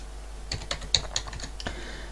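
Keys clatter on a computer keyboard while working on a game scene in Blender, a burst of about a dozen sharp, close keystrokes in an uneven rhythm with no talking.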